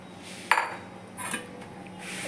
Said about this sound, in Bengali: এবার মিক্সিং করে দিচ্ছি ডিমের ভুজি।